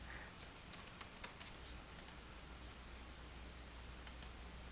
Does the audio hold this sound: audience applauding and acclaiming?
no